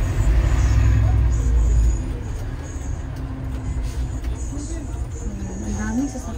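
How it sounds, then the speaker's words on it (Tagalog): Heavy traffic on a busy street in Korea, many vehicles: a dense, rumbling low roar, loudest in the first two seconds, with engine drones shifting in pitch as vehicles pass nearby. "Ang daming sasakyan, grabe."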